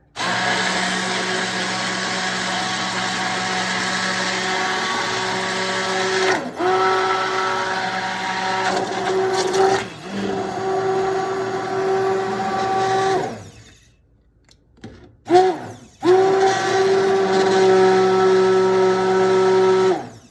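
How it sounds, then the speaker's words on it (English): A loud blender whirs steadily pureeing soup, its motor pitch wavering, briefly cutting out and then starting up again, no talking. "It's gonna get loud, so hold on with me for a minute."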